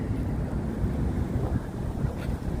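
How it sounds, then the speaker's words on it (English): Gusting wind buffets a phone on a gimbal at Brooklyn Bridge Park in DUMBO, a steady low rumble of close microphone wind noise that runs without break for the whole stretch. "very windy, blowing the phone, the gimbal, the phone on me"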